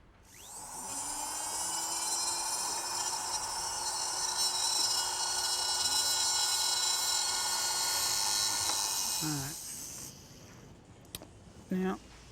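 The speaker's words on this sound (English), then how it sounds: "I'm going to use my pendant drill as a sort of a high-speed lathe, so that it sits in that wire hoop." A pendant drill spins as a makeshift high-speed lathe on brass bar, a steady loud high-pitched whine running for about nine seconds before winding down, followed by a few brief clicks and handling sounds.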